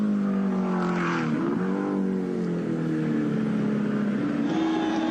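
A 1986 race car at Bathurst drives down pit straight beneath the bridge past lining spectators, its engine a loud sustained drone with shifting pitch that swells and changes as it passes, heard alone without talk.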